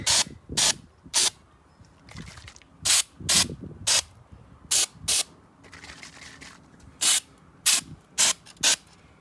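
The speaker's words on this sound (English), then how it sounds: "I'm just gonna spray the second one. Just keep shaking." Short bursts of aerosol flocking spray hiss in quick pairs and triples with brief pauses between, close and fairly loud, with faint can rattling in the gaps.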